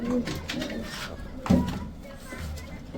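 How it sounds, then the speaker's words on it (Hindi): Soft Meghpai pigeon coos sound close by in a loft amid background chatter and children's voices, with a low throaty call standing out midway. "ये हमारा मेघपाई कबूतर है"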